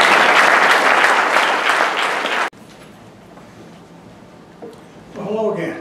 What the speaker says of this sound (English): Please give a round of applause for Ward.